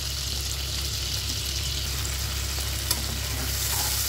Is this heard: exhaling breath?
no